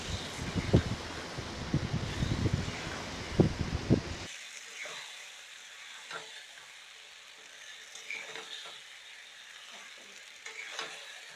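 Pointed gourd being stirred with cashew paste and yogurt in a pan, a busy scraping and sizzling for the first few seconds, then quieter with a few soft knocks and scrapes.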